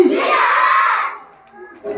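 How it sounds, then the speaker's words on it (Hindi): A village audience claps in welcome at an outdoor women's day gathering: a dense burst of clapping for about a second that then fades out, followed by faint voices. "उनका जोरदार स्वागत करें और तालियों से"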